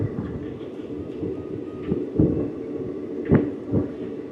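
An AC train between Howrah and Nabadwip in West Bengal rolls along the rails, giving a steady low rumble with rhythmic thuds and clunks from the wheels, heard from inside the carriage with no talking.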